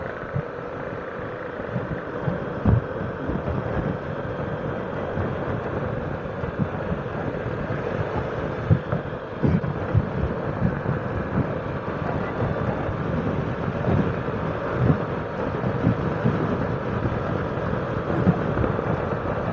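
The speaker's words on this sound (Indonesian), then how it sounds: "Anginnya." Wind roars steadily past while riding on a road between Cikampek and Subang at about 80 km/h, a continuous broadband rush with light buffeting.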